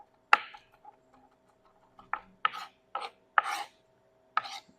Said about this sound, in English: I'm gonna mince up about 2 or 3 cloves of garlic